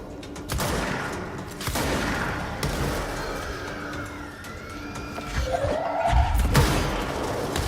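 Enemies exploding in the video game Control, a run of sharp blasts and thuds amid gunfire and a rising whine, with a heavier boom near the end.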